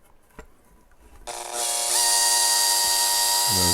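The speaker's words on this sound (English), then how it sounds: "So when I drill this through," A power drill spins up and bores through a black limba custom Strat guitar body, its high whining motor steady and loud after a few quiet handling taps.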